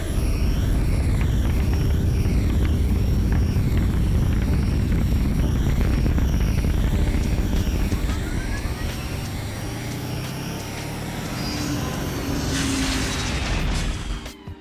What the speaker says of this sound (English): So now I'm going to listen to my suite of rockets and see what they sound like so far.